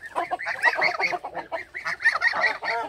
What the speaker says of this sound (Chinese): 现在是大鸡窝的鸡鸭鹅出来了